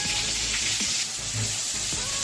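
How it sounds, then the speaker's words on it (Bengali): Prawns frying in a pan make a loud, continuous hiss and sizzle up close, with a few faint clinks and no talking. "চিংড়ি মাছ ভাজা হয়ে গেছে"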